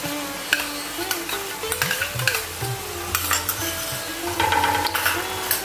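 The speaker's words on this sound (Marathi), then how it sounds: "आता आपण आपली टोमॅटो प्युरी टाकूया" Tomato puree hits onion paste in a hot pan for veg matar keema, sizzling under repeated close scraping and stirring strokes of a spoon against the pan.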